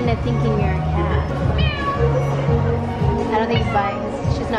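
A person imitates a cat's meow at a cat café, repeated pitched meow-like calls over steady chatter and background voices, while people talk nearby throughout.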